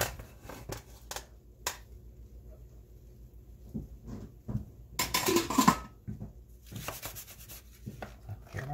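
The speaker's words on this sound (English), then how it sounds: "now I'm going to take this little baking pan and I'm going to put the potatoes in the baking pan" Potatoes are set into a small baking pan one by one, heard as scattered soft bumps, rubs and light metallic taps, close and quiet, with a denser cluster of clatter toward the end and no talking.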